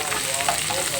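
Cashews frying in oil for raw mango pulihora, a short burst of steady, close sizzling and gentle bubbling.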